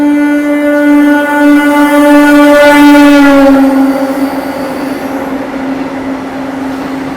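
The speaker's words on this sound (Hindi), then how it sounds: "बनारस वंदे भारत तो भाई उसका ओवरटेक दिखाता हूँ आपको।" Vande Bharat Express passes Amrit Bharat Express at Tundla Junction: a loud, close horn blast drops in pitch as the train rushes by, followed by a fading rumble of rolling wheels.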